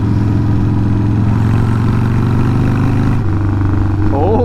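A 43-horsepower motorcycle engine drones steadily while riding, loud and close with a constant mid-pitched tone and wind rush, dipping near the end as the rider shifts gears.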